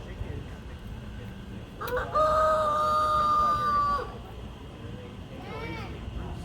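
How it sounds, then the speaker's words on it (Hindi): A rooster crows once, a loud drawn-out call lasting about two seconds, amid a farmyard with sheep, goats and chickens roaming, over steady outdoor background noise with a few fainter bird calls after. "ये देखा आपने, मुर्गा कैसी बाँक लगा रहा है।"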